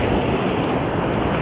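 Sea waves surge and wash onto the shore in a steady, loud roar of surf, with wind buffeting the microphone throughout and no voices.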